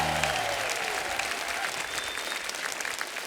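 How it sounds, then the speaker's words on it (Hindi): A television studio audience on a comedy show gives hearty applause for radio jockeys, continuous clapping at moderate level, with a brief voice at the start. "जोरदार तालियां हो जाए हमारे सुपरस्टार आरजेस के लिए"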